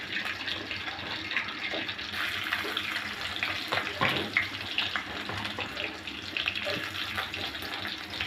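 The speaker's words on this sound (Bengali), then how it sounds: "পেঁয়াজটা হালকা করে ভেজে নিব।" Chopped onions fry in a pan of oil just used for prawns for a prawn biryani, giving a dense, even hiss with small crackles and pops throughout.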